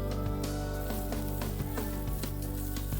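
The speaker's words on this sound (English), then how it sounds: "And continue to fry for another minute." Bok choy stems stir-frying with garlic and green onion whites in a hot pan, a steady loud sizzle with repeated scraping tosses of the spatula throughout.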